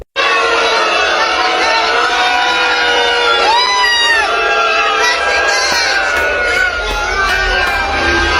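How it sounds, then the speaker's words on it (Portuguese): Dense crowd shouting and jeering at Flávio Bolsonaro as he leaves under security escort, a loud, continuous roar of voices with whoops and rising yells throughout. "Vem cá, que eu vou mostrar pra vocês que o Flávio Bolsonaro foi vaiado,"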